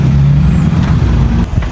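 Busy street traffic on a cold, sunny day in the UK, with queued vehicles, cars and trucks, producing a loud, continuous engine rumble and a brief hiss like an air brake near the end.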